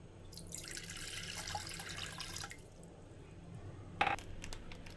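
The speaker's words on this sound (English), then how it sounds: "To a cooking pot, add 3/4 cup of water." Water poured into a cooking pot while preparing a dessert: a steady close splashing stream for a couple of seconds, then a short sharp clink and a few small drips, all fairly quiet.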